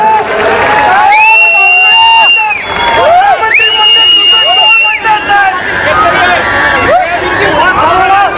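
A large crowd at Sharad Pawar's public political rally in Bhosari, Maharashtra, claps and cheers loudly and continuously, with shrill whistles rising above the dense roar in repeated bursts.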